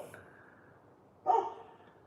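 A dog lets out a single short bark at moderate distance after a quiet pause, with a faint yip just before it in a calm room.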